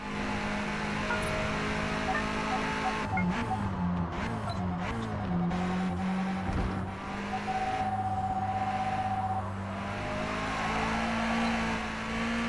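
Race car engine in Forza Motorsport, held at a steady drone through a long hairpin and a left-five into right-five sequence, its pitch dipping and climbing as it brakes and accelerates, loud and continuous with no talk.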